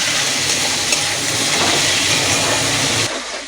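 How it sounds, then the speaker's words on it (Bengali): Tomatoes frying loudly in a pan with onion, garlic and ginger paste, giving a steady, dense sizzle that holds close and constant before dropping off at the very end. "আমি এবার টমেটোটা দিয়ে দেব টমেটো দিয়ে আর এক মিনিট আমি একটু কষিয়ে নেব"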